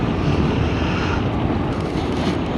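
A new Honda PCX scooter accelerating on the road, with a loud continuous engine drone and heavy wind rush over the microphone throughout.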